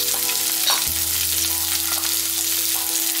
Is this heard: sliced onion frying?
yes